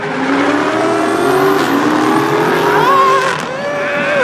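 Race cars, a BMW against a car with a 2JZ engine, roar loudly at high revs, their engine tones rising and shifting as they pass close by.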